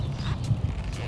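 Horse hooves trotting while being ridden, a steady low clip-clop rhythm close by, with faint breathing or movement noise over a 1-second stretch and no talking.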